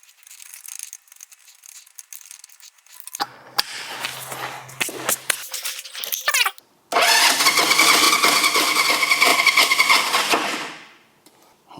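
A motorcycle engine being kick-started after its spark plug was cleaned: a few sputtering attempts and clanks, then the engine catches and runs loudly and steadily for several seconds before cutting out.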